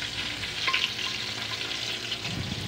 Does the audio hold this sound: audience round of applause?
no